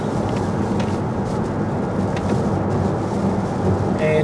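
Heavy rain pours at a tropical resort spa, a steady dense hiss with a low rumble underneath, constant and fairly loud for the whole stretch.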